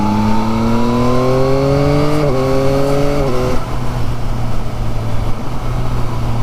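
A 2023 Yamaha MT-09 motorcycle pulls hard in third gear with a rising whine, a quick gear change, then a steadier drone as it carries on accelerating, loud and close.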